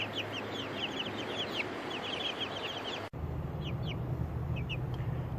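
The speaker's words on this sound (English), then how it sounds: "These are silky chickens" Silkie chickens kept outdoors cluck in soft, repeated short calls over a steady background hum, moderately faint, with a brief dropout midway.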